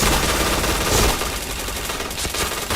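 Rapid gunfire from the first-person shooter game Point Blank: dense, continuous bursts of automatic shots that stay loud and close throughout, with no voices.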